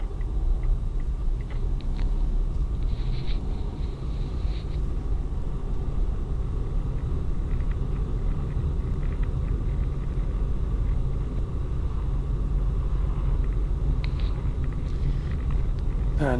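Steady car engine and road rumble from inside a vehicle driving along a Birmingham road on a driving test route, a constant low drone throughout with no talk.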